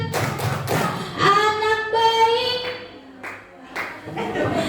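Children at an Islamic storytelling session clap their hands in a short burst of taps, while a woman's sung or drawn-out voice dominates over the scattered clapping.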